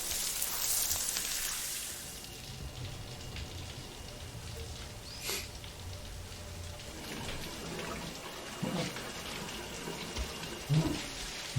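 Shower water running in the Death Stranding video game, a continuous spattering hiss of falling water with occasional louder splashes and faint movement, no speech.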